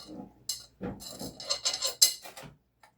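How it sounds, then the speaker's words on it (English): A spoon scrapes and clinks against a bowl while stirring chocolate pudding ingredients and working out the lumps, in close, irregular strokes heard on their own. "just mix these up a little bit. Get some of the lumps out."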